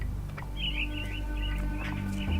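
Caged mynah birds in a Sherlock Holmes video game give soft, faint chirps and warbling calls over a low steady background hum.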